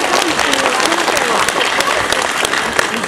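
A crowd at an outdoor holiday celebration applauds a singer warmly, with dense, loud, steady clapping filling the whole stretch without letup.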